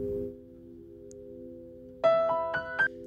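A sustained tone fades out, then a few separate piano notes sound in quick succession, clear and close.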